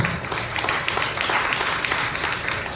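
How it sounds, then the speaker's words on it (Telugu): A church congregation at Sunday worship in Nellore claps loudly and steadily in a dense, continuous wash of hands that fills the room. Faint voices mix in beneath the clapping. "బిగ్గరగా చప్పట్లు కొట్టి ప్రభువును భయపరచు"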